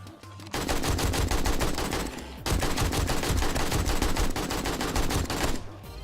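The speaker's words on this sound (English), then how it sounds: "I will have to get an AK in here" In the zombie game 7 Days to Die, an AK rifle fires in two long, rapid automatic bursts, loud and close, separated by a short pause.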